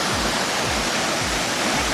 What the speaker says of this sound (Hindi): ये रहा वो झरना है